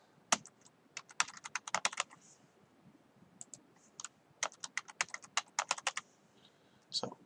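Someone types a MySQL root password on a computer keyboard: a quick, irregular run of sharp key clicks in short bursts with brief pauses between them, close and clear with no talking.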